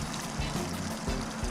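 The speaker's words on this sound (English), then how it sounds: "let the water heater drain out" Water drains steadily from the water heater tank of a Rockwood Mini-lite 2104S travel trailer, a continuous pouring trickle with faint low rumbles underneath and no talk.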